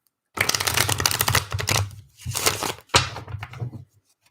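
A deck of playing cards is shuffled in three quick riffling bursts separated by short pauses, close and crisp with no talk.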